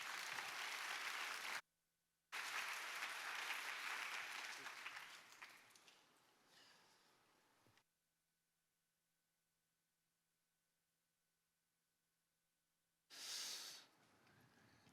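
A church audience claps in bursts of dense, roomy applause, first loud and sustained, then thinning out and dying away, with a short final burst near the end and quiet hiss in between.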